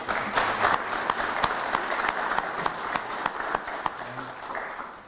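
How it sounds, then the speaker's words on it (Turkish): Sustained applause from a sizable audience at a stadium naming-sponsor announcement in Bursa, many hands clapping in a dense, even roar with occasional sharper claps standing out, with faint voices underneath. "hep beraber bir alkış yapmak istiyorum"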